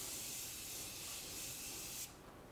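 Makeup setting spray hisses out in one long, close, steady burst lasting about two seconds, then cuts off, leaving only quiet room tone and no talking.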